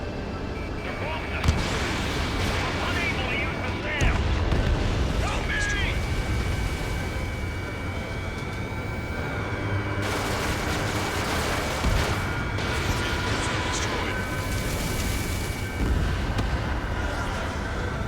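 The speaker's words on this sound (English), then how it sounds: "They're bombing us." Bombs burst during an aerial attack on a base in the Ace Combat 7 video game: heavy, dense booms and roaring blasts layered with constant battle noise over the full stretch, loud and continuous, with radio-style voices speaking in bursts.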